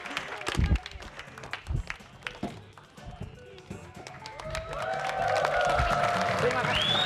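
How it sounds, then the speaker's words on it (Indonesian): An audience applauds a magic trick, first as scattered sharp claps and taps, then as a steady swell of clapping that builds and holds to the end, with a tonal sound rising over it. "tepuk tangan semua."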